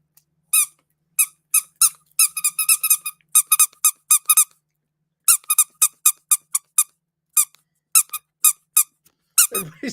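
A rubber duck toy is squeezed over and over, giving sharp high squeaks in quick irregular bursts and pairs. Brief gaps separate the bursts, with a louder rustle at the end.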